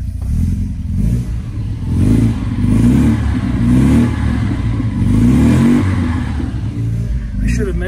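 The cold engine of a 1971 Volvo 144 S catches and idles roughly, then swells through several revs in a low, loud, close drone with a clattery edge, fading slightly near the end.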